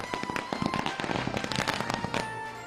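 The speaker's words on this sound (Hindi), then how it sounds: "दिवाली से पहले पटाखे जले" Firecrackers bursting at an election victory celebration in Delhi, a rapid irregular string of sharp cracks and pops, loud and close, continuing steadily throughout.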